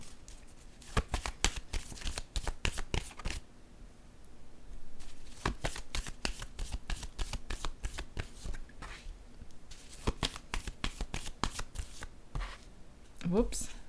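Playing cards being shuffled and handled in a card game, a quick series of crisp riffling bursts and snaps close by, pausing briefly and resuming, with occasional talk.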